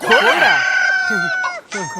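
A chicken calls close by, a drawn-out crowing cry followed by a few shorter clucking notes.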